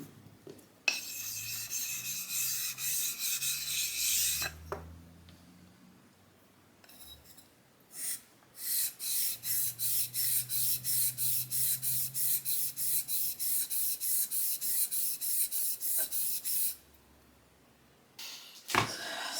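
Beauty shears of 440A steel rasping on a whetstone in repeated quick strokes, a short bout of scraping followed by a long, steady rhythmic run of close, bright grinding passes, with pauses between sets.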